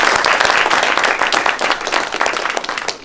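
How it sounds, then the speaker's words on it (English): A crowd at a Hampton University gathering breaks into loud, close applause, thick overlapping claps and some cheering that hold strong and then begin to taper off at the end. "You guys, can we give a round of applause for Reed and the Hampton family?"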